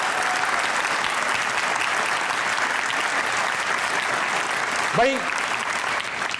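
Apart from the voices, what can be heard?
audience applause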